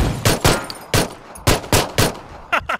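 Single gunshots from Battlegrounds, about eight sharp loud cracks spaced roughly half a second apart, ending with a quick double shot, close and punchy.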